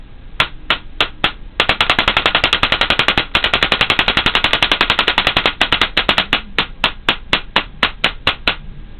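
A Spyder paintball marker fires in semi-auto mode with loud, sharp pops up close, first a few single shots, then long rapid strings, then slower spaced shots again.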